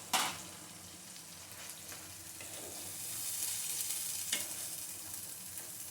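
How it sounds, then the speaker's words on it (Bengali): Coriander powder, black pepper and cashews sizzle in a frying pan as they are stirred, a soft continuous hiss with a brief scrape at the start and another near the end. "দিয়ে ভালো করে একটু নাড়িয়ে নিতে হবে"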